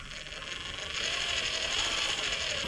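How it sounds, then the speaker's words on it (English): An RC car's counter-rotating drive shafts spin with a fine, busy mechanical whir and gear chatter. The sound starts softer, then swells to a steady close buzz, with no talk. "It's got counter rotating drive shafts."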